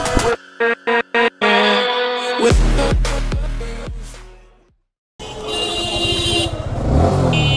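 A Yamaha R15M motorcycle engine revs in several sharp bursts, then roars up loudly, fades, and rumbles back into a steady high-pitched drone.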